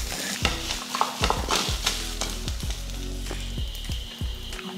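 Chopped beetroot is stirred and sautéed in a pan for chutney, a spoon scraping in quick repeated strokes over a soft steady sizzle, close and clear with no talking.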